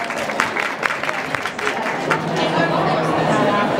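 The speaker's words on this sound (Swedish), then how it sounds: "En applåd för det" Audience claps at a book talk on menstruation and power, a short burst of scattered applause mixed with crowd chatter and murmuring voices.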